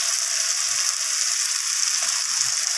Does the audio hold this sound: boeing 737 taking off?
no